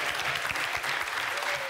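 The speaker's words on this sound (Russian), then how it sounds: "Аплодисменты Андрею" Studio audience applauding a participant at a Russian comedy roast, a dense, sustained crowd clapping with a faint murmur of voices underneath.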